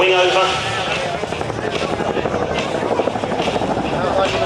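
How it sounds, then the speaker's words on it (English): A Royal Air Force Chinook twin-rotor helicopter flies a display at an airshow, its loud, steady rotor thump and engine roar filling the air as it approaches, with a commentator talking over it. "But now as the Chinook comes directly at you"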